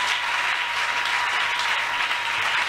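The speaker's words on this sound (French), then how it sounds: "Est-ce qu'on peut donner une forte offrande d'acclamation à Dieu?" A church congregation gives loud, dense, sustained applause and acclamation to God during a service, a steady wash of many hands clapping close and unbroken throughout.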